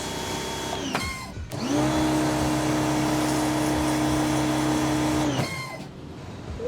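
Lakoni Basic 50 CL small jet cleaner revving up to throttle, a steady loud motor whine holding for several seconds before winding down, with a brief spin-up and drop at either end.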